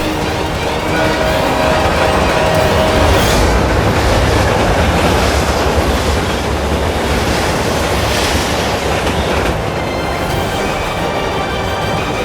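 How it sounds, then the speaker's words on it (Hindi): A train approaches with a steady, loud, broadband rushing roar that holds evenly throughout, with no voices. "ट्रेन अपनी तरफ आ रही है।"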